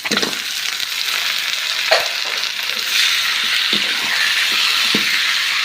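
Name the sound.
country chicken pieces frying in pan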